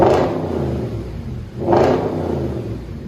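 2010 Audi S5 4.2L V8 with dual exhaust and muffler delete revving in two loud, close bursts that rise and fall, with a steady rumbling idle between them.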